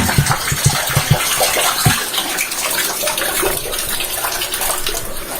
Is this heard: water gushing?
yes